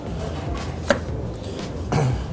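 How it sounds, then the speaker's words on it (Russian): A knife chops through firm pears on a cutting board: a few separate cuts, with a sharper knock near the middle and a heavier thunk at the end. "Груши всегда в доступе. Режем их на 4 части."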